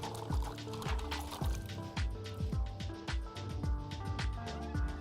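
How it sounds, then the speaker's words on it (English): Hands being rinsed of paint in water, with a steady run of splashing and trickling, close and fairly quiet. "Rinse my hands real quick."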